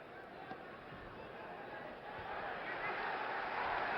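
Boxing crowd at the 1971 Pires vs Foreman fight, a broad distant roar of cheering that swells steadily louder over a few seconds, with a commentator faintly audible beneath it.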